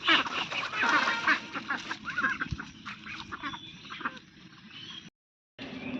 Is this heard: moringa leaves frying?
no